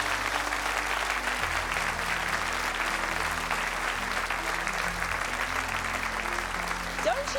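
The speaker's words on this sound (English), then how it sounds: "A big round of applause." Sustained applause from a studio audience at a televised tribute show, dense and steady throughout with no gaps, filling the room at a constant loud level.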